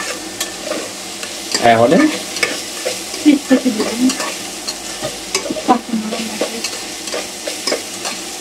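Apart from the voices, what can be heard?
okra frying in hot oil with turmeric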